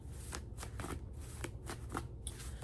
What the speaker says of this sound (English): I'm gonna actually use my personal cards.